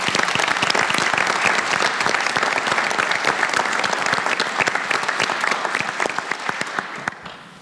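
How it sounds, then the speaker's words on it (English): A school board meeting audience gives a sustained round of applause for student award winners, dense and close, fading gradually toward the end. "If I could have one more round of applause for all of our Counsel winners."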